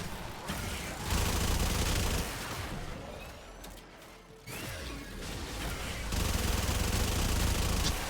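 Automatic weapon fire in the video game Warframe, dense sustained bursts of bullets roaring loudly, dropping briefly to a quieter lull midway before the steady stream resumes at full intensity.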